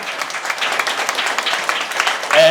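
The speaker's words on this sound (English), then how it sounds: "So why don't you give them a round of applause" Audience applause for a visiting Fire Services rescue team at a school, broadband clapping from a crowd sustained throughout, rising slightly louder at the end.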